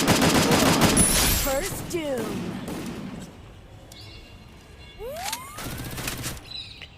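Bursts of rapid gunfire from the Free Fire video game rattle loudly at the start, then fade to quieter scattered shots and a sweeping game effect, with more firing returning near the end.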